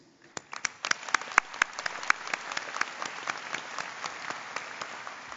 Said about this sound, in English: And you deserve a round of applause